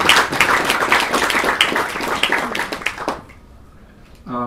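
An audience at a public debate applauds in a dense burst of clapping hands that fades out after about three seconds into near silence, before a voice begins at the very end.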